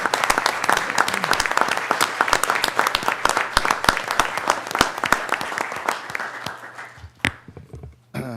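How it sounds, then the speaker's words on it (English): At a city council meeting, a room of attendees claps for employees, with distinct sharp claps forming a lively patter that thins out and stops near the end. "I would like to ask for a round of applause for our employees if I could."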